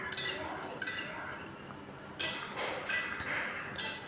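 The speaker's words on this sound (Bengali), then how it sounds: "মটরগুলোর সঙ্গে আলুটা একটু মিশিয়ে নিলেই হবে" A spoon scrapes and clinks against a pot while potatoes and peas are stirred together for ghugni, several sharp metallic knocks amid soft shuffling, fairly quiet and close.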